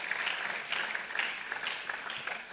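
An audience at an RCCG career conference applauds, a steady wash of many hands clapping that runs the whole time without talk.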